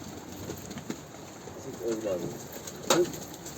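Pigeons coo softly in a coop, with a few low throaty calls and one sharper flutter near the end, over faint background noise and murmured voices.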